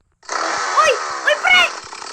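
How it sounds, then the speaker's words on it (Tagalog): A chainsaw in a video game gives a buzzing, raspy engine drone that revs up and down in a few surges, close and loud, while a voice talks over it. "Uy, ako nag-chainsaw! Nag-chainsaw ako"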